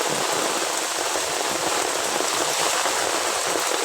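Steady, dense rain falling on a mangrove area, a constant close hiss of drops with no pauses and no voices.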